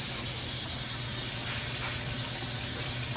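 Water from a kitchen tap with hot and cold supplies runs steadily and hisses into the sink during dishwashing, a constant, fairly faint gush with no voices.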